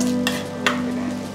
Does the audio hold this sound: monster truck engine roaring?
no